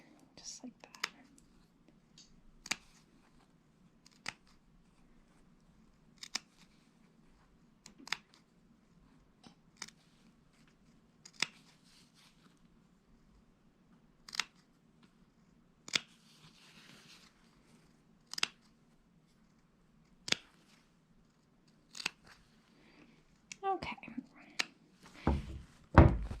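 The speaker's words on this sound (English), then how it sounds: "I am going to do some little cutout notches like this with just the tips of my scissors, about every 1/2 inch" Tips of fabric scissors snip small notches into dress fabric, giving sharp, quiet clicks spaced a few seconds apart, then quickening into a brief flurry with some handling rustle at the end; whispered talk runs faintly underneath.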